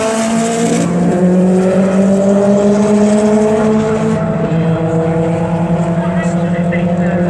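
A Subaru Impreza drag car running a Link ECU and Garrett turbo launches at a drag racing event at Elvington Airfield, York, its loud engine note climbing steadily through the gears, with talk over it.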